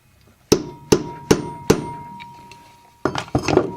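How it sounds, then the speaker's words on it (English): Light hammer taps seat a rivet through the keystone molded into a Lionel toy train's boiler front: four sharp metallic strikes at a steady pace, then a quick cluster of two or three more, close and clear. "And a few light taps."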